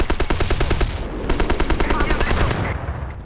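Rapid machine-gun fire in the video game Battlefield 1942, loud close bursts of evenly spaced shots rattling in quick strings, briefly pausing and then resuming with more sustained automatic fire.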